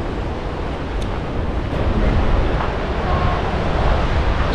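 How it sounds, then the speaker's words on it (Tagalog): Ocean surf on the rocky Muxia coast near a lighthouse: a continuous broad roar of breaking waves mixed with heavy wind buffeting the microphone, loud and steady with a slight swell midway. "there's a lighthouse, and there's a bunch of waves"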